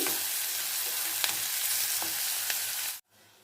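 Green chilies fry in hot oil in a pan for tiffin sambar, making a steady, loud sizzle with occasional sharp crackles before the sound cuts off abruptly near the end.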